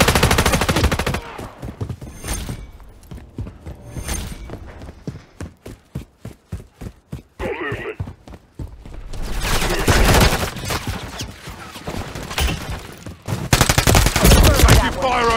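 Gunfire in Call of Duty: Modern Warfare 3, loud rapid bursts of automatic fire that stop and start, with a sparser stretch of single shots before dense firing returns.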